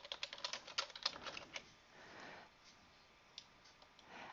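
Keys tapped on a computer keyboard while entering an email address, a quick burst of clicks for about a second and a half, then a pause and a single isolated tap.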